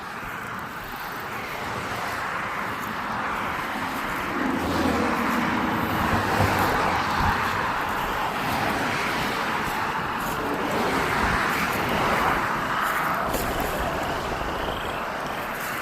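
Road traffic passing near a residential street, a steady broad roar of cars that swells and fades gently throughout, fairly close, with no one talking.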